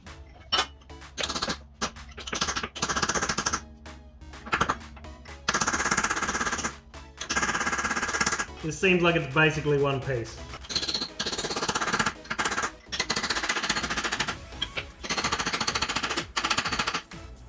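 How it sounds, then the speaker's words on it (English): A hammer driving a chisel against a rusted wheel nut on the stud of a barn-find Leyland COE truck: bursts of sharp, rapid metallic strikes separated by short pauses, with someone talking between them. "Got a hammer and a chisel, let's try and knock the nut off of the stud."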